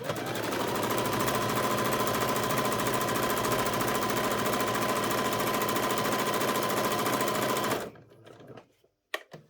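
A sewing machine runs steadily, stitching a seam on a doll's lab coat with a fast, even mechanical whir close by, then stops abruptly near the end and leaves a few faint handling sounds.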